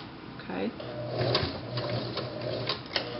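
A sewing machine backstitches over shirring elastic, producing a close, steady mechanical stitching hum with short bursts of clicking as it reverses, while someone speaks briefly over it.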